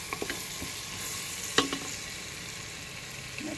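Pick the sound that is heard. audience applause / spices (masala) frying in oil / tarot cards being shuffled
spices (masala) frying in oil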